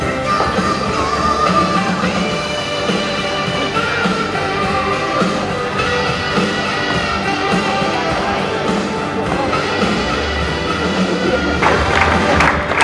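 An audience at a stud farm open house applauds and cheers, a steady wash of clapping and crowd noise that runs loud and continuous throughout, with a swell of claps near the end.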